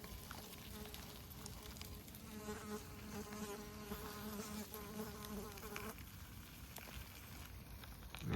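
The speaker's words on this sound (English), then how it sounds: "Yeah, the buzzing fly." A fly buzzes close by in a steady, droning whine that holds for several seconds at low level, with faint background noise and no speech.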